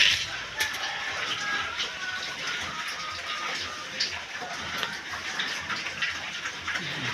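Water runs and splashes steadily at a piggery, a constant hiss with small irregular ticks and drips scattered through it and no clear voices.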